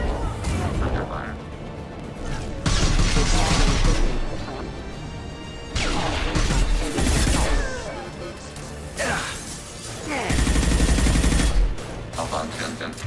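Gunfire in Mass Effect Legendary Edition: rapid machine-gun bursts and sharp shots alternate in heavy waves of combat, loud and close, with crashing impacts between the volleys.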